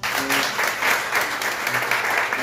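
A church congregation at a Sunday worship service applauds a member introduced to them, giving steady, dense clapping that fills the room throughout, with faint voices mixed underneath.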